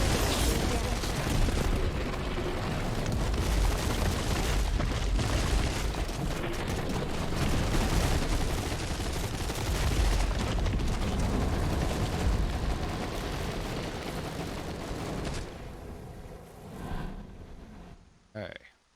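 Missile turrets firing and explosions in the video game Cepheus Protocol: a long, dense roar of booms and launches rumbling continuously, with someone talking over it, fading out at the end.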